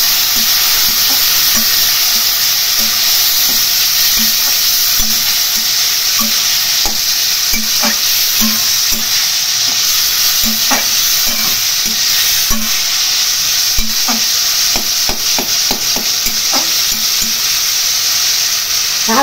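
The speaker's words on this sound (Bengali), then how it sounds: "অল্প জল দিয়ে খুব ভালো করে কষিয়ে নেব।" Spice paste for a Bengali hilsa, ridge gourd and potato curry sizzles with a little water while a spatula scrapes and stirs it in frequent, uneven strokes, close and loud over a constant hiss.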